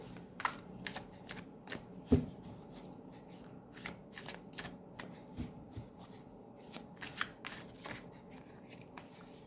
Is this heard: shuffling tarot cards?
yes